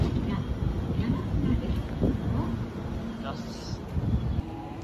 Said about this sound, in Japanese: 乗ってきた普通電車を見送りまして